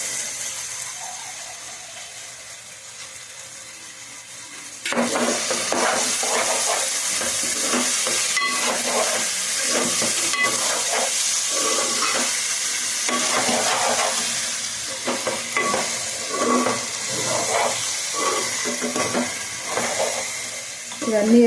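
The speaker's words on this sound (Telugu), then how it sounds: "ఇవన్నీ వేసి బాగా తిప్పి ఈ విధంగా ఒక 2-3 నిమిషాలు ఇలా మనం బాగా కలుపుకోవాలండి." Egg curry masala being stirred and fried in a pan: a quiet start, then a continuous loud sizzle with repeated scraping of a spoon against the pan in an uneven rhythm, and no speech heard.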